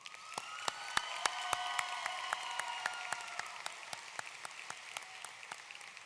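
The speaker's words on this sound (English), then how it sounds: "Can we please have a round of applause for your parents and your family?" A large graduation audience applauds for parents and family at a high school commencement ceremony, with many crisp individual claps ringing out over a dense, steady roar of clapping heard from a moderate distance.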